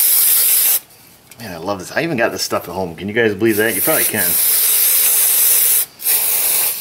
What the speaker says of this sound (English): I don't think I've made a single video yet without brake parts cleaner.